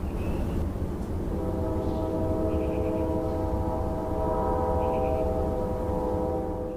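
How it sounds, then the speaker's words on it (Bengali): Cartoon-style train rumbling steadily along, with a loud drawn-out tonal horn-like whistle sustained over the continuous low clatter. "ট্রেন যত এগিয়ে যেতে লাগলো, শহরের চিহ্ন মুছে যেতে লাগলো।"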